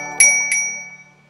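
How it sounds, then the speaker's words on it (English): A bicycle bell rings twice in quick succession, bright metallic dings that ring out and decay, close and clear. "Got a bike bell as a ring."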